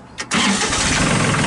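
A tractor engine turns over briefly in a short cranking burst, then catches and settles into a steady, loud running rumble close by, with no talk over it.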